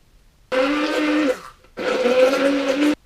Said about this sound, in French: Je vais mettre dans le mixeur pour pour remixer un peu.